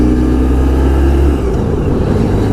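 A 1994 Honda ST1100 Pan European motorcycle engine drones loudly and steadily while riding, with a slight shift in tone midway, all close to the rider.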